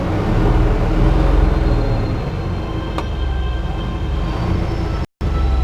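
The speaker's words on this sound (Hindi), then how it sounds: "गाड़ी का साउंड सुन सकते हैं आप।" A Tata 3718 truck engine idles steadily with a low, continuous rumble throughout, broken by a brief dropout near the end.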